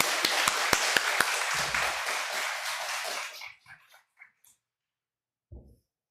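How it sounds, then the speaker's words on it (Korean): A church congregation clapping to welcome the pastor at a Sunday service, a short burst of crowd applause with a few sharp near claps that dies away abruptly, followed by near silence and a faint low thump. "박수로 환영하겠습니다."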